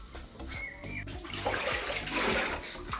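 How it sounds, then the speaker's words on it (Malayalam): Water being scooped out of a tank holding native catfish during cleaning, splashing and pouring water with sloshing bursts and a few knocks of a container, fairly close. "കുറച്ച് വെള്ളം കോരി കളയുന്നുണ്ട്."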